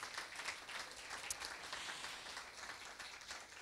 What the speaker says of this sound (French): Je vous demande aussi d'encourager très fort par vos applaudissements nos 4 candidats.